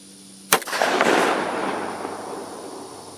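A suppressed 9mm pistol fires a single subsonic round: one sharp, close crack followed by a short, fading rumble.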